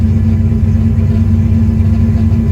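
A car engine idles at about 700 rpm with a steady, low, even rumble, continuous and close throughout.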